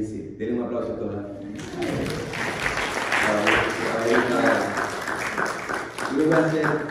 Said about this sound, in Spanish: Denle un aplauso a todas.